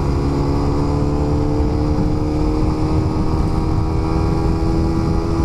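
Suzuki Raider 150 carbureted motorcycle engine running loud and close at steady high revs, a continuous dense buzzing drone with no pauses.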